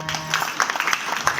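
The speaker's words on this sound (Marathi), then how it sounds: "ताईसाठी टाळ्या वाजवा जोरात" An audience at a Marathi kirtan gathering in a village claps in a short, scattered burst of hand claps, fairly close and moderately loud.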